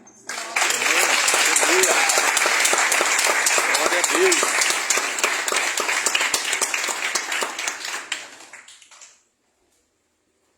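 Church congregation at a missions service claps together in a dense, vigorous burst of applause lasting several seconds before fading and stopping abruptly; a voice briefly speaks over the clapping.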